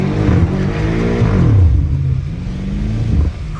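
A BMW M5 Competition drifting in snow revs hard and loud and close, its engine pitch climbing and falling in a couple of surging pulls before easing off near the end.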